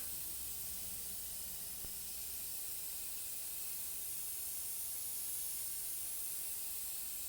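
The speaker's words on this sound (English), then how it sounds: "We're spraying a highly atomized application at a distance." Steady, even hiss of a high-pressure paint spray gun running continuously at high PSI, spraying a finely atomized dye onto sports cloth, a dense airy spray sound with no breaks and no voices.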